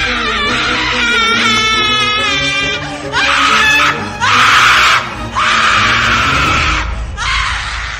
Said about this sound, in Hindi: उसके चीखने चिल्लाने की आवाज सब जगह गूंजने लगी।